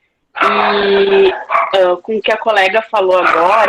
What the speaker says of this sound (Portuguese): desculpe o cachorro